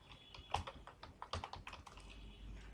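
Someone types on a computer keyboard, a close run of uneven clicks and taps in short bursts with brief pauses between, fairly quiet and with no speech over it.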